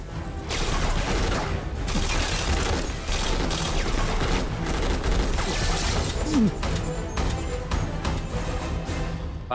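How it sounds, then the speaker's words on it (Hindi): Gunfire in an adventure movie: a dense, continuous barrage of shots and crashing impacts fills the whole stretch at high volume, with no pause. "फायर बंद करो।"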